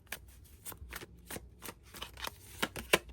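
Tarot cards are shuffled by hand, a steady run of crisp riffling flicks and soft slaps at close range, ending in one sharper snap, with no one talking.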